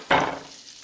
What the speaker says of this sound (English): let that kind of saute and melt that into the garlic, kind of saute a little bit, cook a little bit in that butter